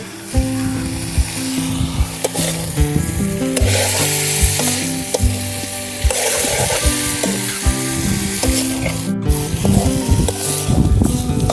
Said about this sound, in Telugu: ఇలా మనం మష్రూమ్ ఫ్రై చేసుకోవడం వల్ల ఏంటంటే దాంట్లో కొంచెం ఫ్లేవర్స్ వెళ్తాయి.